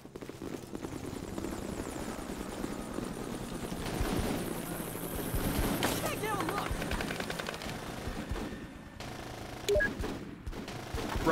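Bursts of automatic gunfire and rattling shots ring out in the Full Spectrum Warrior: Ten Hammers combat game, layered over a steady whirring engine drone, with voices calling out during the firefight.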